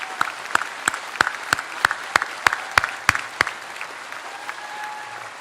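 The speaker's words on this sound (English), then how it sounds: "Can you give them a round of applause" At a Poudre Community Academy graduation ceremony in 2023, a few people clap in a slow, sparse rhythm over a faint crowd murmur, about a dozen distinct claps that stop partway through, leaving quieter room noise.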